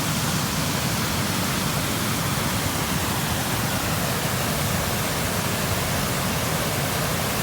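Floodwater surging like a river across a submerged bike path, a loud, unbroken rushing roar with no pauses or other sounds.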